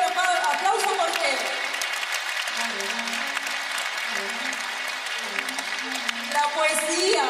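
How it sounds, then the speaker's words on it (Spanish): An audience gives steady applause for a pianist at a music and poetry performance, moderately loud and sustained, with a voice speaking over the clapping near the start and again at the end. "Hermanos Vaca, para quien pido un fuerte aplauso"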